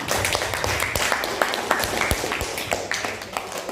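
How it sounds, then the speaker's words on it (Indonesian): A school class applauds during a lesson, scattered hand claps from a roomful of students, fairly close and uneven, with a few sharper individual claps standing out over murmuring. "berikan tepuk tangan"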